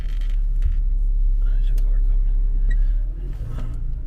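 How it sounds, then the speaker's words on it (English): On a Kensington Avenue street in Philadelphia, a car approaches with a steady low rumble that stays loud and close throughout, alongside faint street noise and a voice talking. "there's a car coming."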